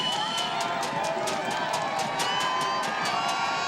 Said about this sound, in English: The crowd wants some noise, and they're getting it.